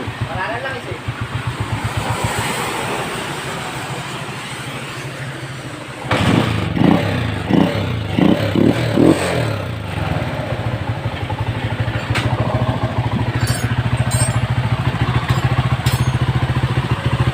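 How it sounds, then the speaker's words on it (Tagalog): A Motorstar Star X125 motorcycle engine, just repaired after failing to start, idles steadily, then revs up with a louder, rougher rattle, running continuously up close. "maandar na yung ating ginawang motor star X125"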